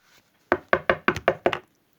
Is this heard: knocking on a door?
yes